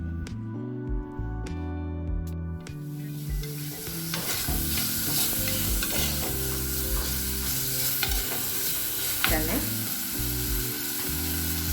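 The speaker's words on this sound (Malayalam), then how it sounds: "എല്ലാം കൂടി ഒന്ന് നന്നായിട്ടൊന്ന് വഴറ്റി കൊടുക്കണം" Onions sautéing with salt in a pan for fish curry, a steady loud sizzle and frying crackle close up, with stirring scrapes in the first seconds before the frying settles into a continuous hiss.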